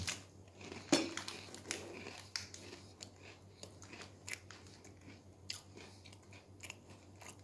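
Biting into a plain Oreo cookie before any milk is poured, a faint close crunch followed by soft chewing and small clinks, quiet throughout with no talking.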